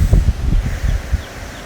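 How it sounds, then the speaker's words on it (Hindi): Leaves rustling on Nandi Hill near Bangalore on a morning outing, a dry, close crackle in uneven bursts that fades near the end, with no voices. "पत्तों की खड़खड़ाहट"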